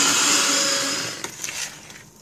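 An electric mixer churns thick chocolate cookie dough made with flour and cocoa for Reese's chewy chocolate cookies, a steady loud whir for about a second that then drops and turns choppy with labored bursts as the dough thickens.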